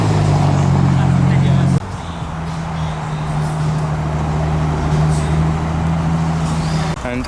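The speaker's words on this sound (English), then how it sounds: "Ooh, the Plymouth Prowler is leaving." Plymouth Prowler pulling away at a car meet, its steady engine drone dropping off sharply early on, then a lower rumble continuing amid crowd chatter and general background noise.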